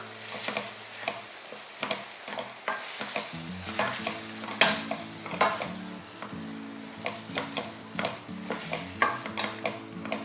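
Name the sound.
stirring tomato rice masala with turmeric, chilli and coriander powder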